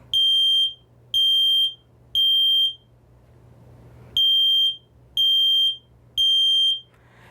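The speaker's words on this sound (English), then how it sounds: "There's a test button on here, and I'm going to push it so you get a chance to hear" A smoke alarm beeps loudly in groups of three piercing high-pitched tones, pausing between sets, with a low hum in the background.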